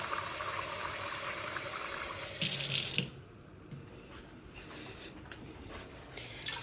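A kitchen tap runs loudly for a few seconds, a brief burst of gushing water, then shuts off, leaving quieter room noise.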